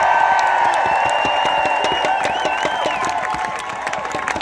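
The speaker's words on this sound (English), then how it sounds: "Give yourselves a big round of applause." A large crowd at a teachers' rally in Tallahassee applauds and cheers, with steady clapping, whoops and a few high whistles running loud throughout and easing slightly near the end.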